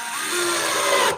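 A power tool whirs steadily, driving screws during a renovation job where walls are being waterproofed, one continuous close drone that cuts off at the end.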